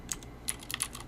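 Quick keystrokes on a computer keyboard, a short irregular burst of about six or seven light clicks close by, typed to rename a button, with no voices.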